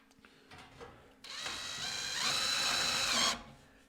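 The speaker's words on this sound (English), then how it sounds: "Don't push too hard. Nice and gentle. Let the drill bit do the work." A power drill whirs steadily for about two seconds, its pitch climbing slightly as the bit bores through wood on a cabin stove installation, then stops abruptly.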